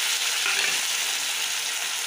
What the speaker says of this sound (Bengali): এখন আমি এই পেঁয়াজ কোড়ানিটা এড করে দিলাম